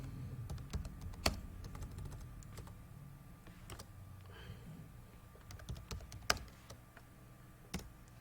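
Keys clatter on a computer keyboard as router configuration commands are entered for SSH encryption setup, a quiet run of sparse, irregular clicks with a few sharper strokes standing out, no voices.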